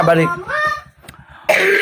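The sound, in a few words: cough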